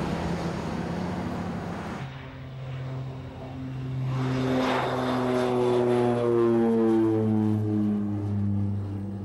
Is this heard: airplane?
yes